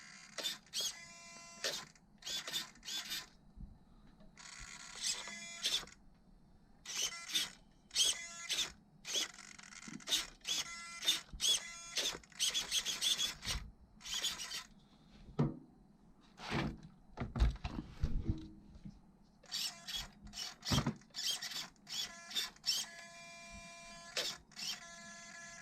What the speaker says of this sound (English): Just look at this speed here of the servo.